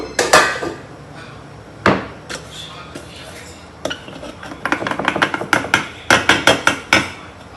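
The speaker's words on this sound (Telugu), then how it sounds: "పల్లీలు అవన్నీ గట్టి ఉంటాయి కదా అవన్నీ దంచేసిన ఆల్రెడీ" Peanuts pounded by hand for a homemade peanut powder, heard as sharp, irregular thuds that become a quicker run of hits near the end, with some clatter of utensils.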